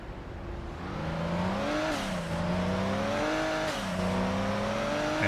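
A tuner car engine in the Midnight Club 3 racing game revs steadily with a smooth whining drone, its pitch climbing and dipping through a couple of gear changes, alone and fairly quiet.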